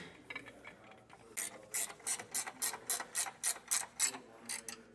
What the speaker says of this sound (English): I just try to make sure I get both sides evenly tightened down